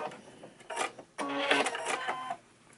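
Sewing machine stitching a darted fabric face mask, two short whirring runs of the motor and needle, the second longer and louder, close by with no talk.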